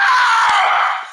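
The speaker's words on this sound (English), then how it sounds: "And just listen to how he screams." A person screams in a rage, one loud, sustained, strained cry held for about a second before it trails off abruptly.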